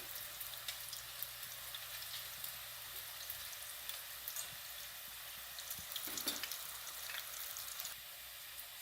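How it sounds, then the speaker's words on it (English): Chicken empanadas fry in hot oil with a steady, close crackling sizzle and bursts of bubbling throughout, no voices. "So we're gonna fry it for about 2 to 3 minutes."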